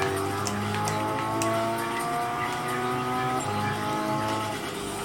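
A race car in a PlayStation 3 racing game skids through curves, a loud steady engine drone overlaid with bursts of tire squeal.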